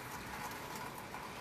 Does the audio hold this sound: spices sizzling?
no